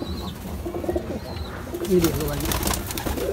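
Madrasi pigeons, including makhoya birds, coo in low murmuring bursts close by, mixed with someone talking and general loft noise.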